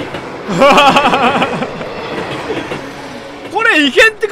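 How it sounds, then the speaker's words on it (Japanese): Train noise inside the ATTA horror-hotel game: a rumbling, clattering passage on the rails that swells loud, fades, and then comes back with a squealing pass near the end, with a voice speaking over it. "電車の音が聞こえる"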